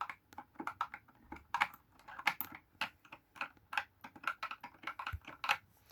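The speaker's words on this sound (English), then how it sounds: "I love the sound of the clicking." Keys of a cheap, colorful stationery keyboard clicking in quick irregular bursts, close and fairly quiet, with no voices.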